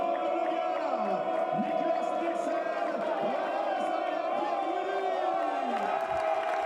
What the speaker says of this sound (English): A massive cheer.